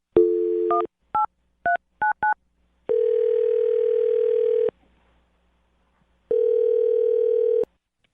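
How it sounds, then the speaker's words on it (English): A phone's dial tone plays, then a quick series of dialing beeps, followed by two long steady tones with a pause between them, clear and loud with no talking. "I'm going to dial her phone number right now."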